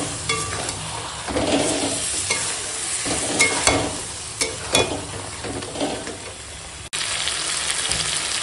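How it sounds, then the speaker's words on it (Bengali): Mutton with sour yogurt is stirred and sizzles in oil in a pan, with a continuous frying hiss broken by scraping and clinking of the spatula, close and alone. "টক দইটা দিয়ে বেশ খানিকক্ষণ কষাবো"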